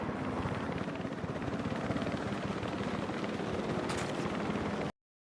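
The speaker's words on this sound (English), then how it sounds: "pterodactyls are still attacking that helicopter" Continuous whirring rotor noise of a helicopter attacked by pterodactyls in Jurassic World Evolution 3, steady and fairly close, cutting off abruptly near the end.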